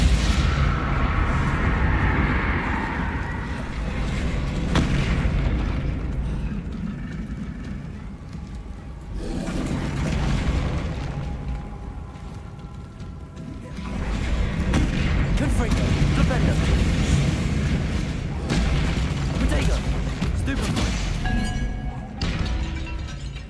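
Spell explosions from Bombarda and Confringo in the video game Hogwarts Legacy, heavy booming blasts and thuds in repeated bursts over continuous combat noise, with a voice calling out spell names throughout.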